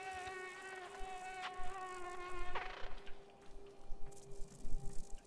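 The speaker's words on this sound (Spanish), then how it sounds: "Un mosquito." A mosquito in the Limbo video game whines with a steady, thin, high-pitched buzz for several seconds. Louder rustling, scraping noise builds up underneath it toward the end.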